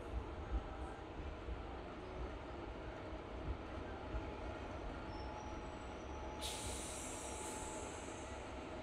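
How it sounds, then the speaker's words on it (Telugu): The Narasapur–Vijayawada MEMU Express rolls slowly through a track change, with a steady low rumble and rattle of wheels. A high metallic squeal rises briefly near the end. "మన ట్రైన్ అయితే మెల్లిగా ట్రాక్ చేంజ్ కూడా అయిపోతుంది."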